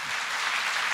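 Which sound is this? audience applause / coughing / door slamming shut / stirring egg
audience applause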